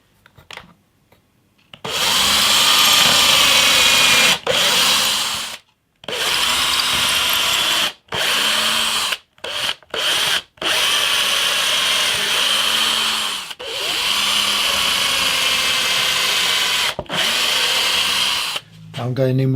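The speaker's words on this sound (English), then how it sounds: "Let's drill the holes first." A power drill whines through wood drilling holes for a homemade Telecaster guitar, in repeated bursts, starting and stopping several times, loud and close.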